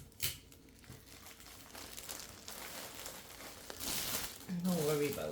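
Tape is pulled and pressed around cellophane wrapping on a Dollar Tree teacher gift basket, giving close crinkling and rustling with a louder tearing tape pull near the end.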